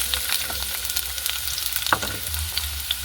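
Chopped onion hits about two spoons of hot oil, giving a steady, close sizzle with the scrape of stirring, while cabbage Manchurian balls are being cooked. One brief louder clatter comes partway through, and no one speaks.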